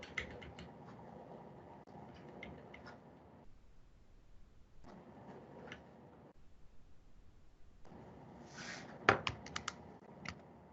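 Typing on a computer keyboard during an online class, quick bursts of clicky keystrokes close to the microphone, separated by short pauses, with a few louder taps near the end.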